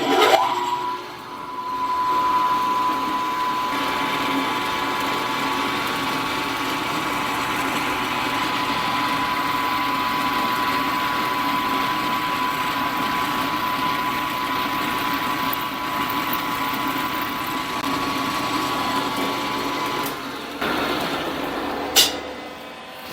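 Drill boring mounting holes in metal for bedway wipers, about a quarter inch deep, with a steady continuous machine whine and hum running for over twenty seconds, fairly close and even in level before stopping near the end.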